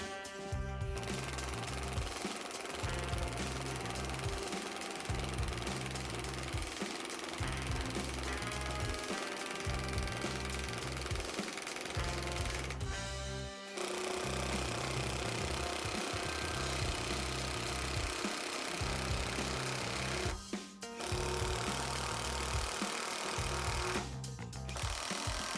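Cordless impact wrench fitted with a 6.35 mm hex bit driving short hex screws, a loud rapid hammering rattle running in long bursts with brief pauses between screws, close up.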